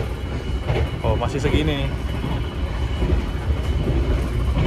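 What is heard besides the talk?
KA Purwojaya executive train running on rails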